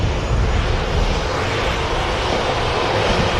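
A late-running Ryanair airliner arriving at Manchester Airport from Barcelona, a constant broadband engine roar filling the air, loud and unbroken with no voices.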